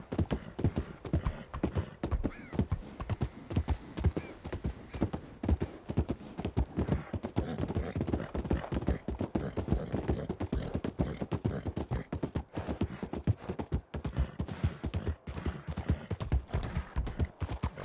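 Steady, rapid clip-clop of horse hooves, continuous and close, with a dense rhythmic pounding throughout.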